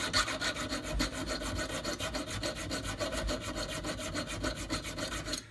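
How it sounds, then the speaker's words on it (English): Small metal file rasping along the edges of rusty auger drill bits, a fast steady run of gritty back-and-forth strokes, close and continuous. "I just took a small metal file and ran it along the edges to clean them up"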